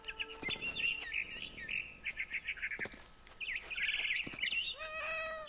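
Barn swallow chirping in a video game: rapid, bright twittering calls come in bursts over about five seconds, close and fairly loud, with a few sharp clicks between phrases and no talking.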